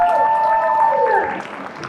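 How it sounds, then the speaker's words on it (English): A fan convention audience claps in a round of applause that fades toward the end, with tonal ringing and a voice faintly present over the crowd noise. "Round of applause, everyone"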